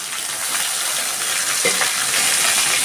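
Steady sizzle of frying in a pan with fennel seeds and ginger paste, a splash of water added partway through brightening the hiss; close, continuous, no talking.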